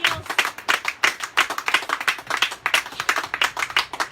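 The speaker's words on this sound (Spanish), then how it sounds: "Denle un aplauso a Jesucristo." A house-church congregation claps for Jesus Christ in a brisk, uneven patter of many hands, fairly loud and close, swelling and dipping slightly over a few seconds.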